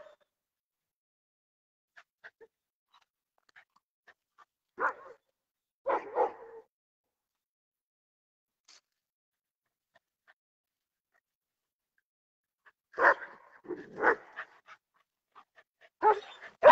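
A dog barks in scattered short bursts, a pair early on and a cluster near the end, with quiet gaps between.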